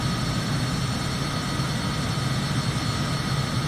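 A steady jet engine roar from an SR-71 Blackbird in Microsoft Flight Simulator, a constant loud drone with a deep low rumble and a high whine held over it, unbroken throughout.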